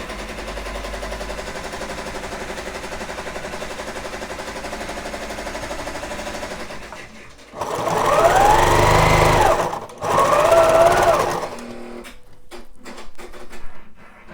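A sewing machine top stitches a fleece scarf, humming steadily at first, then two louder, faster bursts of stitching with a brief stop between, ending in quiet clicks.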